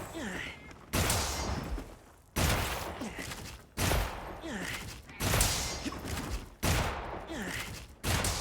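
Repeated weapon shots in the video game Monster Hunter Wilds, six loud, evenly spaced blasts about every second and a half, each trailing off into a rumbling tail.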